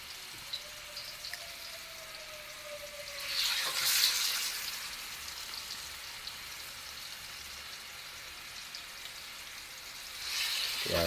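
Oxtail pieces frying in hot oil for Jamaican curry oxtail, a soft steady sizzle with louder crackling bursts around the fourth second and again near the end.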